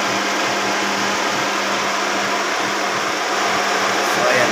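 A car engine runs with a large auxiliary radiator fan, a loud, steady whooshing roar with a constant low hum and no change in level.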